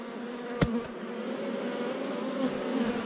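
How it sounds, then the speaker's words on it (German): A swarm of honeybees crawling over a tree trunk in Paraguay gives off a steady, dense buzzing drone, with one brief louder pass from a bee flying close by. "Überall krabbeln die Bienen."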